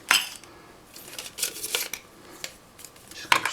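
Pieces of a backpacking cook kit being handled, including a small pot and a spoon, giving close, bright metallic clinks and rattles in short scattered bursts with quiet gaps between.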